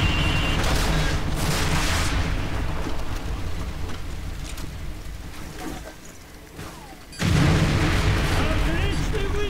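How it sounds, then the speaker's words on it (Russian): Heavy rumbling artillery blasts and explosions in Call of Duty 4: Modern Warfare roll continuously, easing off briefly before a sudden loud burst of shelling erupts near the end. "Мы попали под обстрел к северу от перехода!"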